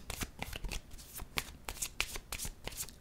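A deck of tarot cards is shuffled by hand close up, giving a quick series of crisp riffling and flicking bursts, fairly faint, with no talk.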